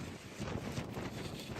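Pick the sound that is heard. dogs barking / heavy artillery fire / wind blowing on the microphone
wind blowing on the microphone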